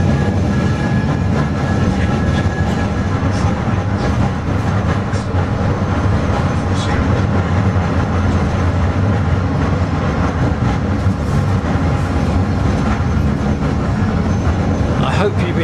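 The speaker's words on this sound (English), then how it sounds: "I hope you've enjoyed this journey to and from the North Pier on this tram" Blackpool tram riding to and from North Pier, a continuous rumble of wheels and rattling carriage from on board, steady and close, with a voice talking over it.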